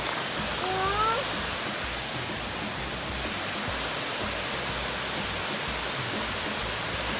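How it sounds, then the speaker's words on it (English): Waterfall at Shenandoah National Park, a steady broadband rush of falling water filling the whole stretch, loud and constant, with a brief high child's squeal early on. "Yeah, that's a waterfall."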